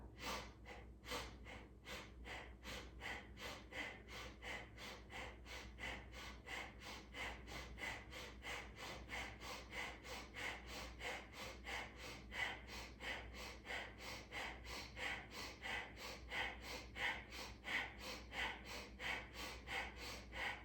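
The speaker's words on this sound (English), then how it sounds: "Fire breath." Rapid yoga fire breath, a long steady train of quick forceful nasal exhales in an even fast rhythm, close and clear over a faint low background hum, with no talking.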